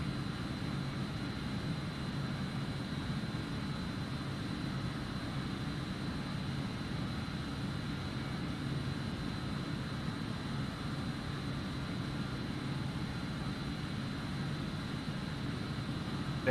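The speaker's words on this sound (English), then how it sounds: "Very, very quiet on takeoff, this aircraft" Jet engines of an Avro RJ hum through takeoff in a flight simulator, a faint, steady low drone with a thin whine above it, continuous and unchanging.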